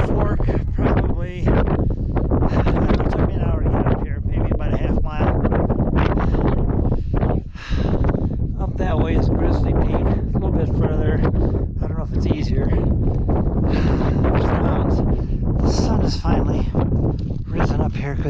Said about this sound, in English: Because it's cold, the wind's blowing like crazy.